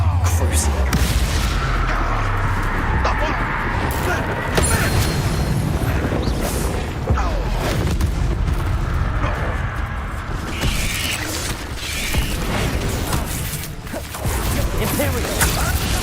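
The Crucio spell effect in Hogwarts Legacy plays as a sustained stretch of crackling magical impacts, whooshes and booming bursts, loud and continuous alongside other battle sounds, with a voice talking over parts of it.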